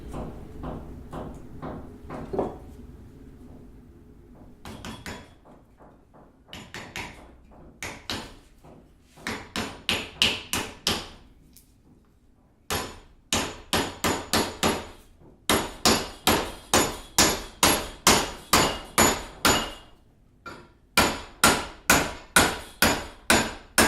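A wooden wedge is hammered into an axe head held in a bench vise, with sharp, close hammer blows that start as scattered taps and build into a fast, steady run of loud strikes.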